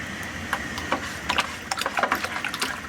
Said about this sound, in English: I'm going to start filling it up more with some cold water now